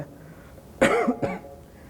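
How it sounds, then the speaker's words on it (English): A single harsh cough from a person with a cold, followed quickly by a second, shorter cough, close and fairly loud against a quiet conference room. "I've had a cold for like a month now, so I just have a cough"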